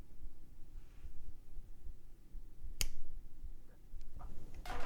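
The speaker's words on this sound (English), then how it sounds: "I'll snap my fingers." A single sharp finger snap cracks out clearly near the middle, followed by a couple of fainter clicks and snaps toward the end, over a low steady background hum.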